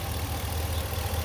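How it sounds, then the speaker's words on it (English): A 5.7 liter Hemi V8 in a 2021 Ram 1500 Laramie 4x4 idles smoothly, a steady low rumble with no talk over it. "Great little engine, and it is running smooth as can be."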